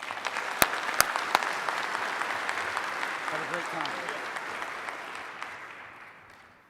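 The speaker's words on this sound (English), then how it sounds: "So let's give Stephan and Siegfried a big round of applause." A DEF CON 24 conference crowd gives sustained applause for two speakers. The dense clapping fills the hall and slowly fades, with a few sharp claps standing out and someone speaking over it.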